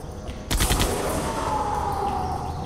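Gunfire in the video game Jurassic Park: The Game, a sudden loud burst of rapid shots followed by a lingering, ringing decay.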